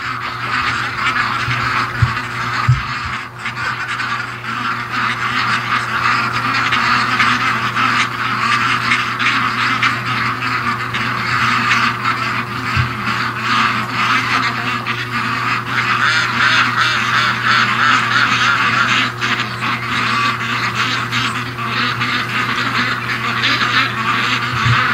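A flock of ducks returning home from the swamp quacks and honks continuously in a dense, noisy chorus close by, sustained for the whole stretch with no talk.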